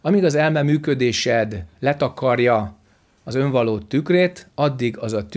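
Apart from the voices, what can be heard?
No distinct noise like a dog, phone or traffic.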